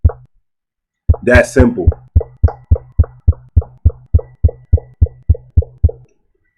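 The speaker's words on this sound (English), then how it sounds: "now that sounds like a kick drum, right?" A short spoken phrase, then an everyday sound processed into a kick drum thumps out about fifteen punchy, evenly spaced low hits in a steady beat before stopping.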